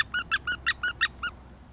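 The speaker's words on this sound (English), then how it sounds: "Now, does he make any sounds? Oh, he's a squeaky toy." A small plush penguin squeaky toy is pressed eight times in a quick, even rhythm, each squeak sharp and close, then it goes quiet.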